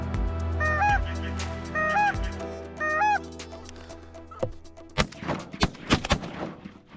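Geese arriving at fading evening light during a hunt give several bursts of close, nasal honking calls in the first three seconds, followed by a string of sharp shotgun blasts.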